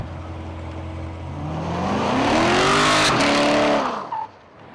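A Stingray C3 Corvette revs up and accelerates hard, its engine note climbing steadily and loudly, with a brief squeal of tires near the end before the sound drops away.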